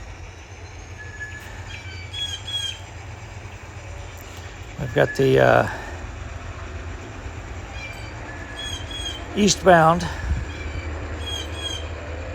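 Eastbound freight train from Cincinnati to Parkersburg pulling into Chillicothe, a steady low rumble of rolling cars with faint wheel squeal, while someone speaks briefly twice over it.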